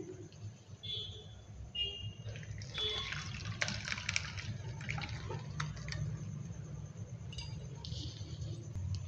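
Chhena and whey poured through a washed cotton cloth into a pot while making mango sandesh. Liquid splashes and trickles steadily, with dripping and a few light clinks against the pot, fairly quiet and close.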